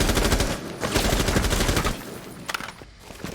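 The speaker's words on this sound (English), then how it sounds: "the wall bang from the Jaeger does put a little damage on Keegan" Rapid automatic gunfire bursts through a wall in Rainbow Six Siege, loud and close, a dense stream of shots for about two seconds followed by a few sharper isolated cracks.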